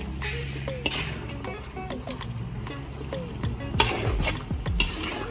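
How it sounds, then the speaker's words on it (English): Chicken is stirred into separated yogurt and oil in a pot, with a spoon scraping and clinking against the metal amid a soft sizzle, in irregular strokes. "So at this stage, I am going to add the chicken. So we are going to mix them all well."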